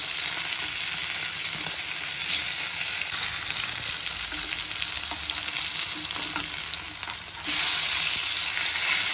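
Masala-coated fish fries in hot oil in a pan, a continuous loud sizzle and crackle with small pops, steady throughout and briefly swelling near the end, with no talking.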